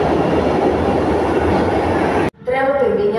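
A Milan metro train rumbles loudly and steadily through the tunnel, then a brief gap gives way to a recorded platform announcement.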